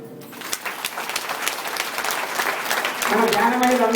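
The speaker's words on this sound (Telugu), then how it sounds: "క్లాప్స్." Scattered hand clapping from a small group at a birthday celebration, with a voice talking over it and growing louder toward the end.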